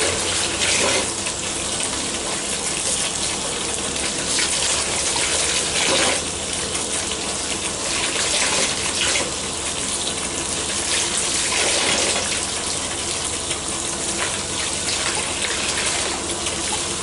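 Steady running water from a tap rinsing the inside of a human hair wig, a continuous loud gushing splash with slight surges, no voices.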